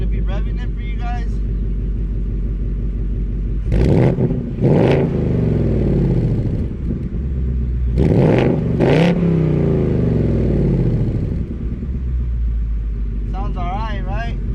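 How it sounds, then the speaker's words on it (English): A Ford Mustang Mach 1 engine idles with a deep rumble, then revs sharply twice in quick pairs, each rise and fall loud and close, before settling back to idle. "now we're going to be revving it for you guys"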